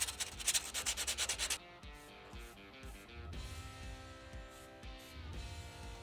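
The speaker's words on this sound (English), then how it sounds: "I'm just gonna go ahead and sand a little bit of this rust off" Rust being sanded off a metal frame for a Nissan Xterra bumper install, with a quick run of rhythmic rasping strokes up front and then steadier grinding and rubbing against metal, close and unaccompanied by speech.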